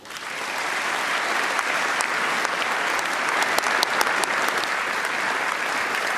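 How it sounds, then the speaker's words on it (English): A crowd at an AFL season launch gives sustained applause after a speech, with dense, even clapping at full volume and a few sharper individual claps standing out. "a collective round of applause, ladies and gentlemen, if you would, once again"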